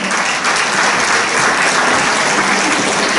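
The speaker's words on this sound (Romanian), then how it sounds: "S-o întâmpinăm cu multe aplauze!" Steady, dense applause from a folk ensemble show audience, loud and continuous throughout, with no voices standing out.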